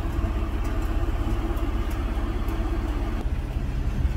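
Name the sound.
car engine idling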